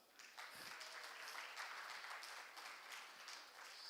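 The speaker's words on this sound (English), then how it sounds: "please clap for all the authors" An audience at an education conference claps for the authors in a hall, with steady, many-handed applause that sounds faint and distant from start to finish.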